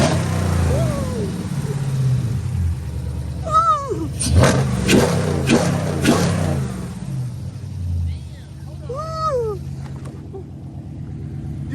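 A modified Dodge Charger Scat Pack engine rumbles and revs in short bursts, heard near, with excited voices talking over it and high squeaky chirps in between.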